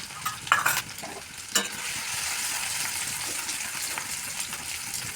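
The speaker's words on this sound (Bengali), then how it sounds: "তেল গরম হয়ে গেছে বন্ধুরা, আদা রসুনের ঘষে রেখেছিলাম, আদা রসুন দিয়ে দিলাম 1 চামচ।" Ginger and garlic paste hits hot oil in a pan, giving a steady, close sizzle with a couple of sharp spattering bursts and stirring scrapes early on, then settling into an even frying hiss.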